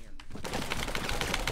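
A rapid burst of automatic gunfire rattles out in a video game, a dense run of close, loud shots that starts after a short pause and keeps going without a gap to the end.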